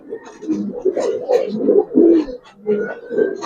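Giribaz pigeons coo in soft, repeated throaty murmurs at close range. Several overlapping calls rise and fall through a few seconds of a pigeon-selling setting.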